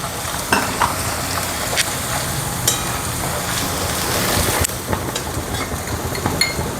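Hot oil tempering with asafoetida, cumin and coriander powder sizzles and crackles steadily in a pan, with sharp pops and stirring scrapes throughout, close and fairly loud with no talk.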